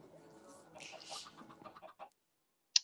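Chickens cluck in a video game, a short run of soft, close clucks and murmurs that fade out, ending in one brief sharp click.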